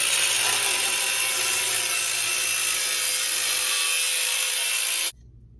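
Steady, loud, continuous cutting of a thin sheet-metal bracket, a bright hissing grind that runs for about five seconds before stopping abruptly.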